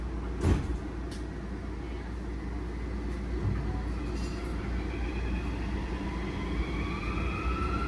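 A Toyama city tram departing, a low continuous rumble of motor and wheels building steadily, with a brief sharp squeal near the start and rising whine as it pulls away.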